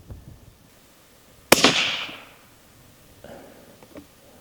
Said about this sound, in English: Okay, we'll shoot this last one.